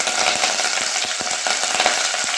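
Crushed ginger, garlic and curry leaves fry in oil over a low flame, a steady close sizzle with scattered crackles and pops throughout and no voices.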